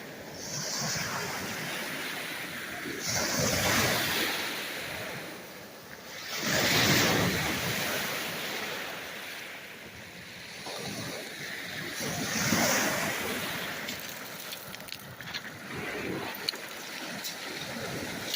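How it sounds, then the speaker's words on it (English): Lake Superior waves wash onto the shore in repeated surges every few seconds, a broad rushing roar with some wind buffeting, no speech. "These waves are really loud"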